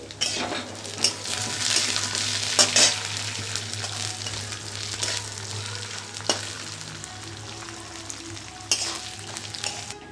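Dried chili, a bay leaf, cumin seeds and a little mung dal fry in hot oil with a constant close sizzle, accompanied by occasional clinks and scrapes of a utensil stirring the pan.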